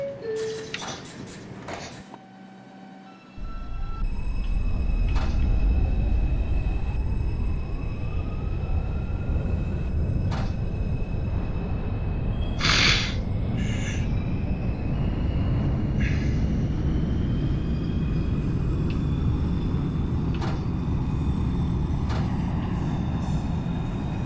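R142 subway train in the OpenBVE simulator on the 5 line, running as a foggy local: brief door chimes and a sliding-door close, then a steady loud traction motor drone as the train departs, with a faint tonal whine rising over it.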